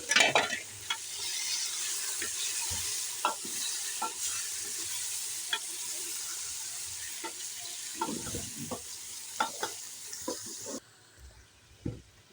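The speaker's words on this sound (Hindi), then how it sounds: "अब हम भून लेंगे गोश्त।" Beef sizzling in hot oil with onions and chili powder, a steady fry broken by scattered stirring scrapes and clinks, fairly close, no voices.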